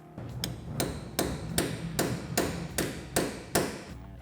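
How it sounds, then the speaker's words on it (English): Nine sharp hammer strikes on a metal roll pin land at a steady, even pace, close and loud, with no talking, while driving it in during a billet differential install on a Polaris RZR. "get our roll pin started enough to where we can hit it with the hammer"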